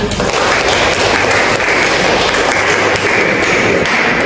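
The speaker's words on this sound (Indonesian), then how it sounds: "mari kita tepuk tangan untuk kita semua" Classroom of children applauding together at the close of a small group discussion counseling session, a dense steady wash of clapping throughout, fairly loud and close, with some voices mixed in.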